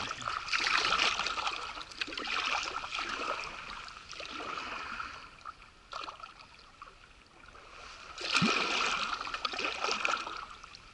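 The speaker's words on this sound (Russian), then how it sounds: "в узкости река сужается, течение ускоряется" A river current rushes faster where the channel narrows, a steady close wash of flowing water with louder splashing surges near the start and end of the stretch.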